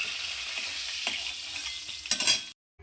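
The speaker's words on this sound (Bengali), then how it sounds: "এই পটলগুলো আমার খুব সুন্দর করে ভাজা হয়ে গেছে" Pointed gourd slices frying in hot oil give a steady close sizzle with stirring clatter near the end, then the sound cuts out abruptly.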